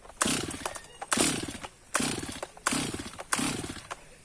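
Repeated pull-start attempts on a new Stihl MS 250 chainsaw, five sharp rasping cord pulls in quick succession, each a brief loud burst that fades, close by and without the engine catching.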